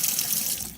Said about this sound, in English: Meanwhile, you can get your baby corn out and rinse it off.